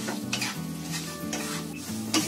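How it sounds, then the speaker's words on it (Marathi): Barnyard millet semolina roasting in ghee, with a constant close sizzle and rhythmic scraping of a spoon stirring against the pan, no voices. "आता बघा मी इथे तूप टाकलाय, त्याच्यामध्ये आपल्याला हा रवा भाजून घ्यायचा आहे"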